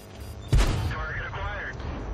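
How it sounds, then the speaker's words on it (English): In World of Tanks, a sharp cannon boom goes off, and a short synthetic voice callout for auto-aim target acquisition follows it over faint battlefield background noise. "It said target acquired"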